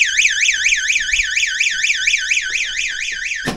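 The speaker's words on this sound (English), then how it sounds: "if we do hear that alarm going, it potentially means somebody has opened that box and they need help" Loud warbling electronic alarm from an emergency box that has been opened, rising and falling in a steady rapid wail for several seconds before cutting off abruptly at the end.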